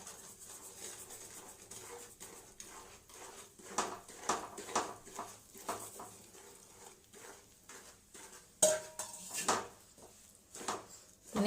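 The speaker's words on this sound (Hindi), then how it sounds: "अब हम इसे हिलाते हुए भून लेंगे।" A spoon clinks and scrapes against a kadai as gram flour is stirred and roasted in ghee, making soft, irregular strokes up close in a quiet kitchen, with one sharper knock near the end.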